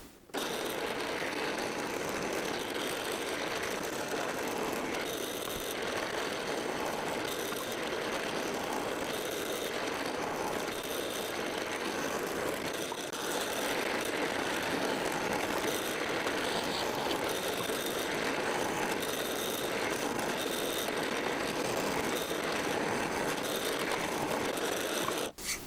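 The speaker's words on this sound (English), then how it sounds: "let me just cut those clearance holes." A power tool cuts clearance holes through workshop bracket pieces, five per piece, as a loud, steady, continuous mechanical whir that runs without a break and with no talk over it.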